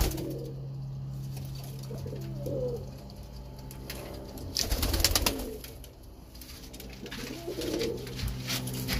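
Birmingham roller pigeons coo inside their loft, low soft murmuring calls recurring through the stretch with a brief burst of fluttering or movement near the middle, against a steady background hum.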